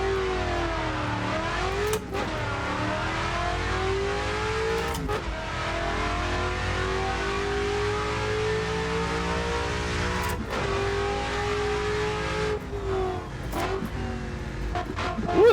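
Loud, sustained car engine in the racing game Assetto Corsa Evoluzione, revving hard and climbing through gears with a few sharp shift breaks, continuous and close throughout.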